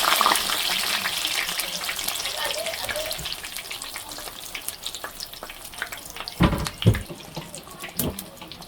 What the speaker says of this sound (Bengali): সিঙ্গারাটা ভাজা হয়ে গেল, এখন আমি তুলে নিব।